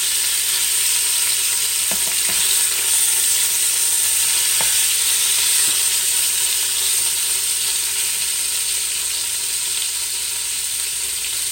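Meat seasoned with salt and pepper sears in a pressure cooker, giving a steady, loud, close sizzle with a few faint clicks and no talking.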